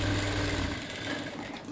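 A sewing machine stitches the lining and fabric of a high-neck blouse in a short, steady mechanical whirr that sounds close and fairly loud, with no voices.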